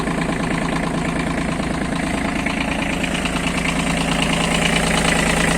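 An Iseki Sial TF-5 Japanese mini tractor's diesel engine idles just after starting, a steady close knocking chug with even vibration and no voices.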